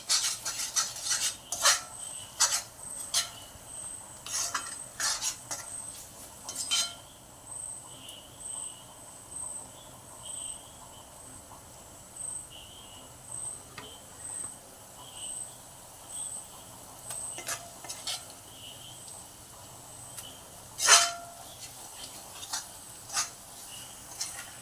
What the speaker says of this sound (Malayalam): ഇനി ഇത് എണ്ണയിൽ നല്ലവണ്ണം വഴണ്ട് വരണം.